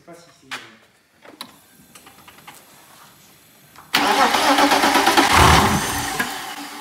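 A supercharged BMW E46 car engine cranking and firing up, with faint clicks and brief talk first, then a sudden loud catch that settles into a steady, close running rumble.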